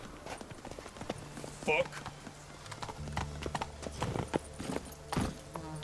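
Roach, a horse in The Witcher 3, gallops with rapid hoof clip-clops, close and rhythmic, while a voice speaks over the hoofbeats and a short whinny breaks through.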